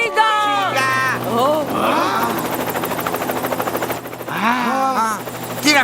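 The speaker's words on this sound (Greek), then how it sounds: "Αυτό το ελικόπτερο!" A cartoon helicopter flies with a rapid, pulsing rotor chop that swells and fades over a continuous hum, mixed with animated sound effects and character voices in a Beyblade episode.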